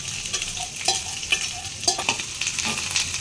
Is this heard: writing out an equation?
no